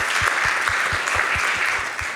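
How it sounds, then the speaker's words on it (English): Audience at a medical research symposium applauds steadily, a dense wash of clapping from many hands with a rhythmic beat of heavier claps, sustained for the whole clip before easing slightly. "First, maybe give her another applause."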